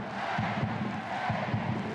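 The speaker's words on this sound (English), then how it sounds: "A fantastic fantastic crowd, engaged crowd here in LA." A large, engaged stadium crowd in Los Angeles roars and cheers continuously at a United States vs Colombia women's soccer match, a dense, loud wall of voices with no break.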